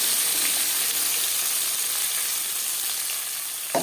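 Tomato paste frying in hot oil with dried red chillies for matar paneer, a loud, steady, hissing sizzle that holds throughout, with a small knock at the very end and no talk.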